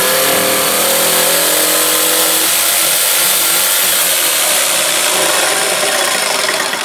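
Loud, continuous rasping of a saw cutting through wood while crafting a large Easter bunny, close and steady, with no talk over it.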